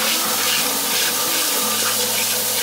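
A steady, loud rush of water being stirred and sloshed in a pot while quail are scalded before plucking, continuous with no voices.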